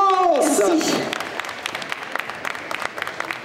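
A crowd at a geek convention Disney concert applauds the performers, a loud burst of cheering and clapping that trails into scattered claps as a singer's voice fades at the start.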